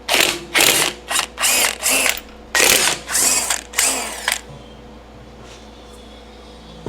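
Impact wrench bursts loosening the lug nuts on a BMW 440i wheel, close and loud: about nine sharp whirring rattles in a choppy stop-start rhythm, then quiet.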